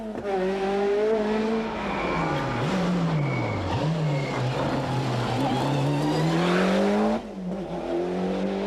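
Rally car racing along a forest stage during the 1993 Stonethrowers Rally, engine roaring loud and close with steady revving, gear-change dips and rising pitch as it passes, tyres scrabbling on the surface throughout.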